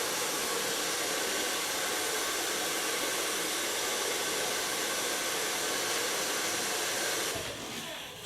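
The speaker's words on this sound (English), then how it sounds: "So far blow drying." A hair dryer blows steadily while hair is blow dried during a bob-to-pixie haircut styling session, a loud continuous whoosh that holds for about seven seconds before easing off near the end.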